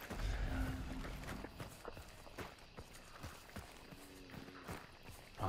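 Horse hooves clip-clop along at a walking pace amid busy Hunt: Showdown game sounds, with occasional clicks and background noise.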